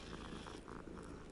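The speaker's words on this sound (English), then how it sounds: "It purrs." A cat in the video game Hogwarts Legacy purring steadily and continuously, close and soft, with no talk over it.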